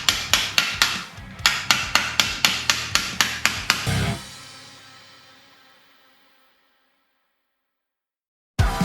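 Light, even hammer taps on a sheet-metal flange being bent at a bead roller, about a dozen sharp ringing strikes in a steady rhythm, then a long fading ring and one more hit at the end.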